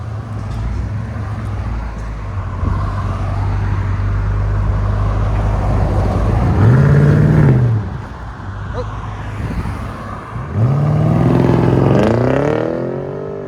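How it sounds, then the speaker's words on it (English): A BMW M550i with a fully straight-piped exhaust, muffler and resonator removed, rumbles at idle and then pulls away with two loud rising revs, its deep roar swelling close by before fading. "BMW M550i, fully straight pipe. There's a muffler and resonator we cut off."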